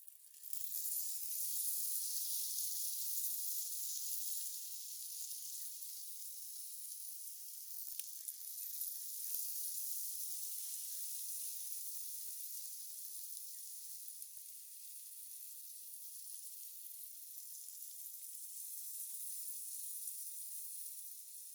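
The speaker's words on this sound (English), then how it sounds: "Slowly pour the cold syrup evenly over the hot baklava that we just took out of the oven." Cold syrup poured over hot baklava fresh from the oven, giving a steady, bright sizzle and crackle that lasts throughout, close and fairly loud with no talking.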